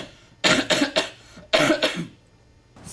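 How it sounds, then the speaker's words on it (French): Several sharp coughs in two bursts, a quick cluster of three followed by a pause and then two more, close and fairly loud against a quiet background. "Et toussez 4 fois pour réponse D."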